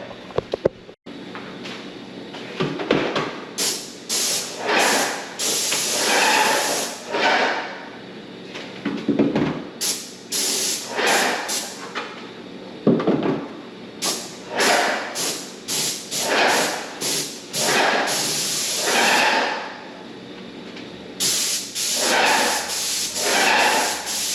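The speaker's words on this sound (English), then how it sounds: "getting ready to start spraying doors right now" A paint sprayer hisses loudly up close while spraying doors, in long, repeated bursts, stopping briefly between passes before starting again.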